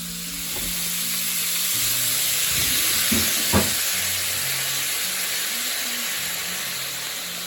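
A steak frying in a pan gives a loud, steady sizzle that fills the whole stretch, with a few brief clinks and scrapes near the middle over a faint low hum.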